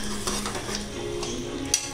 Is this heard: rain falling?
no